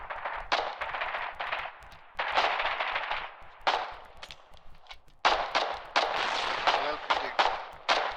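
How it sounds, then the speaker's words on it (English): In a war video game's siege at Saltbrook on the Endless Shore, mortar fire and loud gunfire sound as repeated heavy blasts and crackling volleys, close and dense with brief lulls between bursts. "There's mortars."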